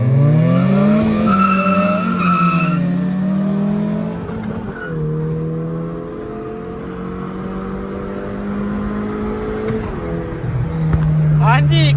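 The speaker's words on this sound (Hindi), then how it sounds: "ले जी अब रेस होने जा रही है D17 वर्सेस L15।" Tuned cars racing on a track at night, a D17-engined car against an L15, with loud close engines rising and falling in pitch through the gears and a brief tire squeal near the end.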